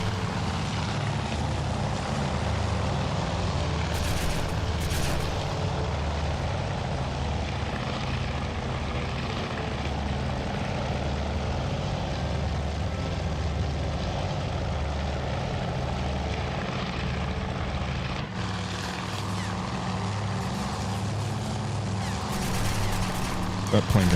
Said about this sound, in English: That plane got shot down by the way.